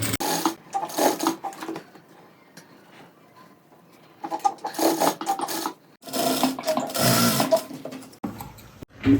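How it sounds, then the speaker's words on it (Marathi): A sewing machine stitching piping onto a blouse runs in several short bursts of rapid whirring, with quiet pauses and fabric handling between them, close and clear. "तर बघा इथे मी आता तुम्हाला टिप मारून दाखवतो"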